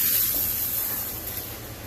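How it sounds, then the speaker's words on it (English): A carpet cleaner's fan tip nozzle sprays rinse water onto an area rug, giving a steady, close, broadband hiss that holds level and fades slightly toward the end, with no voices. "Alright, here we go with rinsing. This is a fan tip nozzle."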